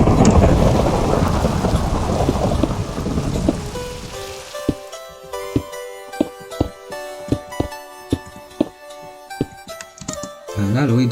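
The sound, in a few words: rain and thunder weather in Minecraft video game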